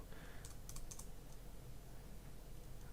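A quick burst of soft key taps on a computer keyboard as a search term is typed, faint and close, then a low steady hum with no further typing.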